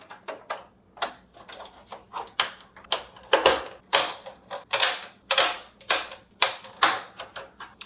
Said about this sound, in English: There's bits rattling around in here, I don't know if you can hear that.